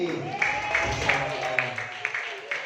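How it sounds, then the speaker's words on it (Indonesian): Applause at a sales training presentation, heard as a run of evenly spaced claps in a steady rhythm over a murmuring crowd and a busy room background. "Tepuk tangan sekali lagi."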